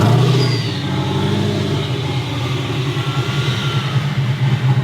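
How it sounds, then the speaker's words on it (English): A 900HP turbocharged truck rumbling nearby, its loud engine drone overlaid with a rising high-pitched turbo whistle that eases off as the revs settle. "Man, that turbo whistle is just insane."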